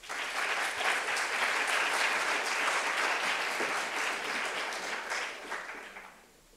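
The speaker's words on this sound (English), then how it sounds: "If we could give a round of applause to Oak Spy Signs and Graphics" Sustained audience applause at a business plan competition finals in Fort Worth, a dense wash of many hands clapping steadily before fading out at the end.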